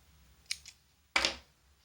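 Scissors snip through crochet yarn to fasten off a finished piece: two soft, close clicks as the blades open, then one louder, crisp cut, all in a quiet room.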